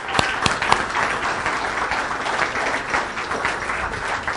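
A crowd at a main-event gathering claps for Shelley Walk of the Walk Law Firm, a steady, moderately loud patter of many hands with a few sharper claps near the start.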